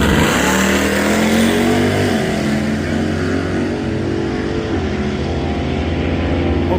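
Drag race cars idling and revving on the starting line, a loud, dense engine rumble that holds steady with shifting pitch throughout, close and continuous with no talking.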